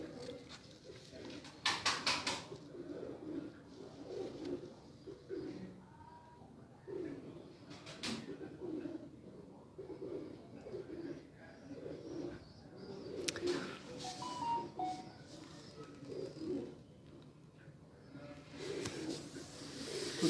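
Pigeons of a prized fancy breed coo repeatedly in a loft, soft low rolling calls overlapping at close range, with occasional wing flutters and faint chirps in the background.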